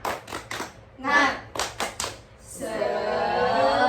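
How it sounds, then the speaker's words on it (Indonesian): Children in a classroom perform a rhythmic clapping chant, a few sharp claps in a patterned beat alternating with short chanted syllables, then a sustained sung vowel at the end. "Tepuk semangat."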